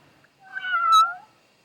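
A Geely Galaxy E5 car's external speaker plays a single recorded cat meow, a clear rising-then-falling cry lasting about a second, close and alone against a quiet background.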